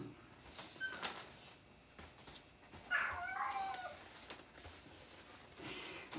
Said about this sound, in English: your meow is hilarious